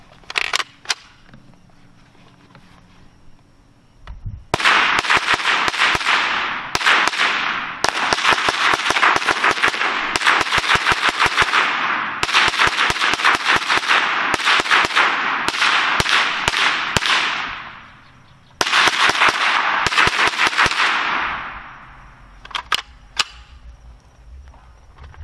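Rapid strings of suppressed FN PS90 rifle shots fired outdoors with a red dot sight, sharp cracks in dense bursts separated by short pauses, loud and close.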